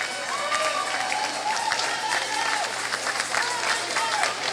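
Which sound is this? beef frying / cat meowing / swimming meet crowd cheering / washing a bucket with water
swimming meet crowd cheering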